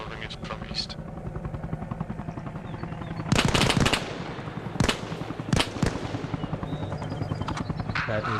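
Gunfire is exchanged in bursts: several sharp, loud volleys ring out against a steady background helicopter drone, while a voice talks underneath.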